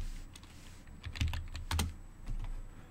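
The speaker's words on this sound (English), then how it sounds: "So we type it again." Someone types on a computer keyboard at a Windows 10 machine, a few close clusters of clicky keystrokes with short pauses between them against a quiet background.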